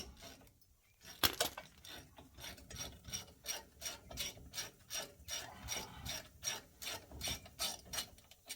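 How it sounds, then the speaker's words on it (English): Ratchet wrench working loose the brake caliper bracket on a 2018 Ram pickup during a front pad and rotor job: a sharp initial crack, then a steady run of quick, close metallic pawl clicks with rhythmic pulls, no talking. "now let's get the caliper bracket off"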